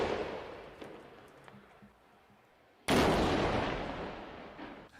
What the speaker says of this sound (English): a cannon from the 19th century can do that kind of damage